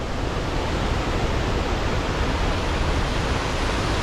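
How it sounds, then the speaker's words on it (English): Cascade waterfall on Ribbon Creek in Yosemite during peak spring flow, a steady, loud, broadband rushing roar close by with no voices. "And a super pretty cascade coming through here"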